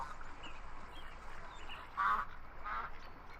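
Duck quacks in a VR Chat bird sanctuary game, a couple of short nasal calls standing out over a steady wash of ambient game noise, moderately loud and close.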